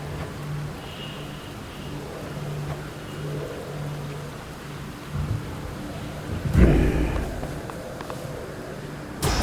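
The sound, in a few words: thunder and rain in Hades 2 video game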